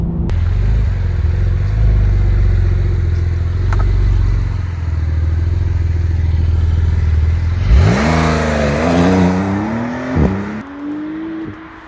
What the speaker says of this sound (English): The engine is so loud.